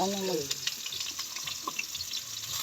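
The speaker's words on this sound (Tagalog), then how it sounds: "Lulutuin ko muna yung pusit." Squid frying in a pan over a wood fire gives a steady, close sizzle with scattered crackles and pops, with a brief tonal voice-like sound at the very start.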